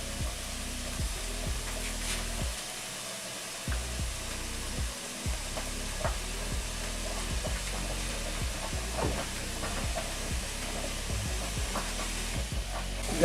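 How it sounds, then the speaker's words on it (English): Pot of tamarind sauce sweetened with jaggery bubbling on the stove, a steady hissing simmer with soft repeated pops and plops running close and continuous throughout. "They are both boiling right now"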